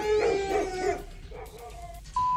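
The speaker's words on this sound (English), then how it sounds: "neighborhood dogs frighten the bears" Neighborhood dogs barking and yelping near bears, a few loud, close barks with a howling edge, then quieter scattered yips fading out.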